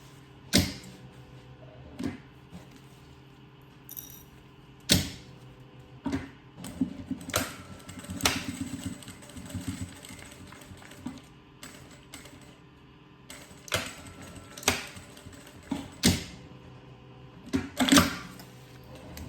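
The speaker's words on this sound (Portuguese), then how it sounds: "eu travo primeiro o meu zíper, para depois vir com uma costura de baixo até em cima" A sewing machine stitches a zipper onto a pencil case in short separate bursts, with brief pauses and clicks between runs of stitching.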